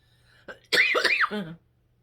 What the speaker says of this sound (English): Heavens, I can't quit coughing.